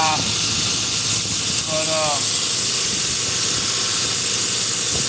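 A belt grinder with a worn 36-inch belt grinds a knife bevel, giving a steady, loud abrasive hiss that runs unbroken, with a brief spoken word early on.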